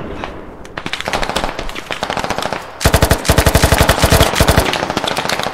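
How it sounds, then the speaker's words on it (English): Sustained automatic gunfire in the tactical shooter game Squad, a slower burst at first, then a loud, dense, rapid stream of close machine-gun shots with no talking. "My partner started shooting."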